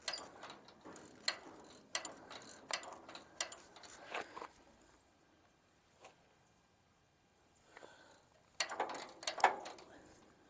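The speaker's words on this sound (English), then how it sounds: "Let me get the ratchet." A hand ratchet clicks in bursts of quick repeated pawl ticks while tightening a weight distribution trailer hitch, with short pauses between runs and a louder final flurry, close and unaccompanied.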